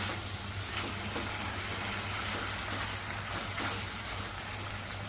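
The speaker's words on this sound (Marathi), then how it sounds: "ते घालूया आणि चांगलं परतवून घेऊया" Finely chopped ripe medium tomato sautéing in a pan for hotel-style aloo palak gravy, giving a steady, close hiss and sizzle that runs unbroken throughout with no voices.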